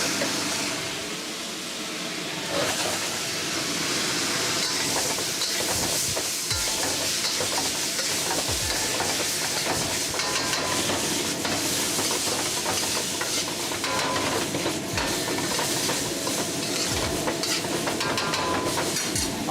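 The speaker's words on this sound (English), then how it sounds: "there's our pork going back into the wok" Pork stir-frying in a wok on an induction top gives a steady broadband sizzle with scraping stir strokes and bursts of steam running throughout, with no talking.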